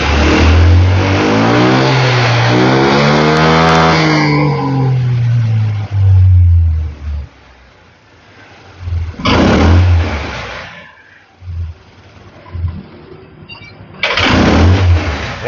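Honda Lead 125 scooter with a hesitating throttle, its engine revving up and dropping back in a long, sustained rise and fall, followed by a quieter idle and then a few shorter, sluggish bursts of throttle, loud and close.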